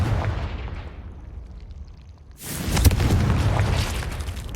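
Confringo blasting spell from the Hogwarts Legacy video game, a sudden loud explosive burst after a quieter rumbling lull, followed by a sustained crackling, booming roar that gradually fades.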